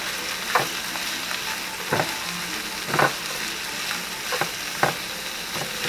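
Shredded carrots frying in a pan give a steady, close sizzle, broken about every second by sharp stirring scrapes of a utensil, with no talking.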